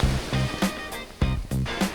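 Onshore-blown surf at Hiratsuka beach in Japan breaks in repeated rushing bursts, each wave crashing and hissing loudly up close on a windy day.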